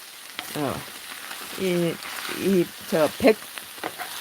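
Pork fried rice with oyster mushrooms, purple sweet potato, purple and regular onion, chives, perilla leaves and cherry tomatoes is stir-fried in a pan, a faint sizzle running beneath a person talking in short bursts.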